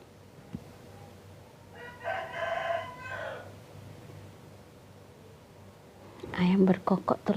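A rooster crows once in a drawn-out call, moderately loud over steady background hiss, followed later by a person talking.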